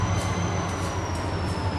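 Two EMD SD40-2 diesel locomotives of the Ohio Central make up a train, a steady low engine drone with a faint high whine running continuously, close and even in level, with no talk.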